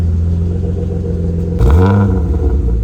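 A 1993 BMW E36 engine cranks and catches about halfway through, rising into a loud, close rumbling idle after a quieter stretch of steady mechanical noise.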